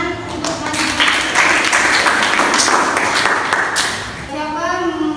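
Applause breaks out in an Indonesian university teaching session, a dense wash of clapping from a seated group that swells over several seconds and then fades, with voices murmuring underneath.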